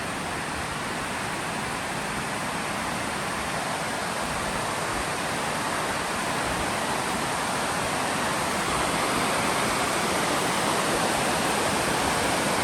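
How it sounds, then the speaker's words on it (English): Water rushes over the Woodhaven Spillway at Montgomery Bell State Park near Dickson, Tennessee, a loud, steady, unbroken roar of falling water heard up close with no other sounds. "So this is the Woodhaven Spillway"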